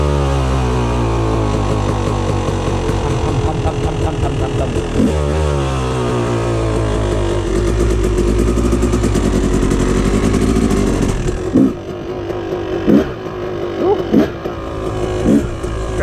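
A Yamaha YZ250 two-stroke dirt bike with rich jetting runs loud and close, revving steadily and snappily for about eleven seconds before settling into choppy, uneven blips of the throttle.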